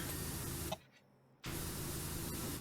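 A pressure washer in the video game PowerWash Simulator sprays as a steady, loud hiss. It cuts out briefly for under a second, then resumes at full strength.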